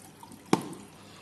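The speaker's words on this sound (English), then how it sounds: "this submersible pump will push the water, and this water will be pumping into the bottle" One close, quiet water drip falls into a beer bottle hydroponics setup, fed by a submersible pump. It is a single short splash over low background hiss, with no talking.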